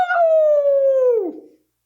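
A person imitating a wolf howl, one long clear tonal wail that holds steady and then slides downward before cutting off into silence.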